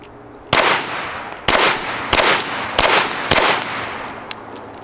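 Five sharp pistol reports from a Stoeger STR-9MC micro 9mm fired at 5 yards, loud and close, spaced roughly half a second to a second apart, each trailing into a brief ringing decay with no talk between.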